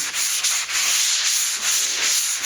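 Fine sanding block rubbed over a plaster patch on a lath and plaster wall: close, steady back-and-forth scratchy strokes with brief dips between passes, no talking.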